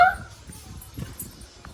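A dog gives a short whimper followed by a few soft, muffled yips and low barks, close by in a quiet room.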